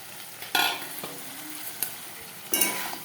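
Prawns with spices stirred in a hot frying pan: a steady sizzle broken by a few loud scraping strokes of the spoon, close and clear, with no talking.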